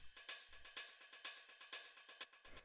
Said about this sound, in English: The next thing we have here is the ride,